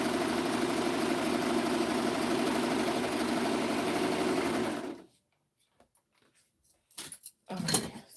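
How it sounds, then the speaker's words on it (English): A serger stitching around the pocket of a jumpsuit, a fast steady mechanical whirring for about five seconds, close and even, then stopping, followed by a few small handling clicks and rustles. "just serging around the pocket so that it won't fray"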